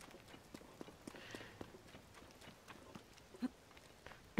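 Horse hooves walking in The Legend of Zelda: Tears of the Kingdom, a soft, evenly spaced clip-clop of several steps, faint and close, with a slightly louder thump near the end.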